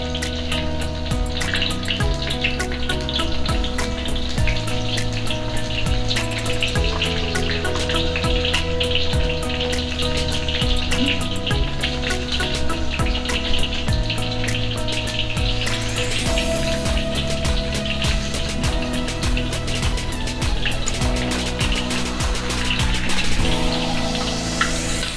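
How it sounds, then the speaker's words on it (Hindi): Stuffed ivy gourd (kundru) fries in a pan with a steady, dense sizzle and crackle that holds for the whole stretch, over a background music bed with no talking. "इहनां नू चंगी तरह आपां भुन लांगे।"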